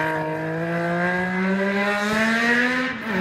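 A roughly 30-year-old Formula 1 Ferrari V12 engine, likened to a three-cylinder motorbike, drones loud and close at a steady pitch, climbing gradually with a brief dip near the end.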